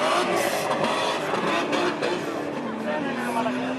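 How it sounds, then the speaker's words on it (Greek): A BMW drag racing car fitted with a Supra engine at a drag day event in Agrinio, a loud sustained engine roar close by with a rising tone, under an announcer's commentary. "με ένα BMW 30 το οποίο πρέπει να φοράει μοτέρ Supra"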